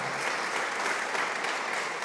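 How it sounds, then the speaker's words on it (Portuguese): A church congregation claps steadily in a brief, even burst of applause during a sermon, moderately loud and uninterrupted, with no voices heard. "pode aplaudir a palavra do Senhor"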